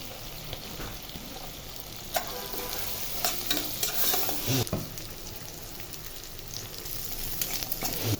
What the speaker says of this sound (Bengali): নাড়াচাড়া করে আদা আর রসুন এগুলো একটু ফ্রাই করে নেব